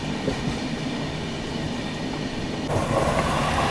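Steady rumble of the Mumbai Rajdhani Express running at speed alongside a Mumbai local train, with rail clatter that swells louder near the end as the local train overtakes close by.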